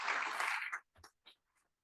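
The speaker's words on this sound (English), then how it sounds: "Give yourselves a round of applause" Audience applause at a California Green Ribbon Schools award ceremony, a dense burst of clapping that fades out after about three-quarters of a second, followed by brief scattered sounds.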